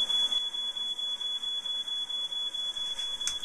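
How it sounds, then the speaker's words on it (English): Smoke detector alarm beeping in a steady, continuous high-pitched tone, loud and close, with no talk over it. "I'll edit the smoke detector out later."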